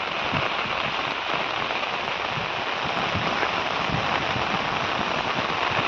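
Steady heavy rain pours down in a Konkan mango orchard, a dense, even hiss with scattered drops pattering on nearby surfaces throughout.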